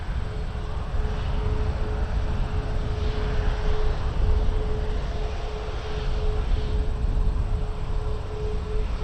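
Lufthansa airliner passing at Toronto Pearson Airport, a steady broad jet roar at moderate distance with a faint constant tone, no voices.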